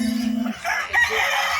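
A rooster crows once, a short, loud call close by that rises and then trails off, with no voices over it.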